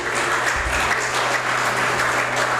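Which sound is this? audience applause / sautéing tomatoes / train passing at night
audience applause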